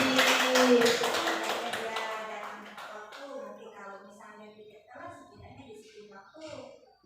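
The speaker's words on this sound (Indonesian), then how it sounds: "Kasih aplaus untuk Ibu Nasi" Applause from a classroom audience for a teacher, loud dense clapping at the start that thins and fades over the seconds, with voices and chatter under it.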